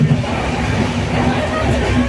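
A train at a railway station, a steady rumbling wash of rail noise with crowd murmur and voices mixed throughout, fairly loud and continuous.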